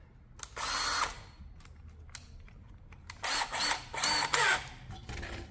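An 8 mm drill bit bores and enlarges holes in a tin can for a wood-burning pyrolysis stove, with two loud whining bursts of drilling separated by a quieter pause and short clicks.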